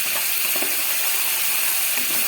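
Spices sizzle and crackle in hot oil in a pan for a vegetarian cauliflower roast, a steady near hiss with no pauses and no voices.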